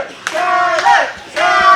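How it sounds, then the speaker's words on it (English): Wrestling crowd at a CWF Mid-Atlantic event cheering for John Skyler, loud chanting bursts from many voices in a rhythmic pattern, close and energetic. "The crowd getting behind John Skyler"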